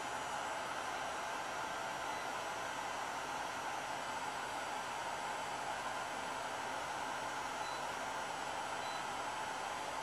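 A steady, broadband whooshing roar of a hair dryer runs continuously at an even level throughout, with no voices.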